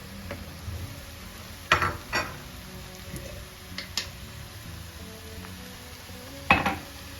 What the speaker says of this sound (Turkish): Şimdi bulgur ekleyeceğim.